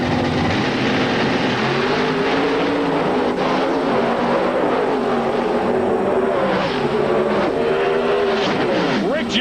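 Hemi-powered alcohol funny car at an IHRA drag race in the Rocky Mountains, 2003, roaring loudly and continuously with a rising, revving engine note throughout.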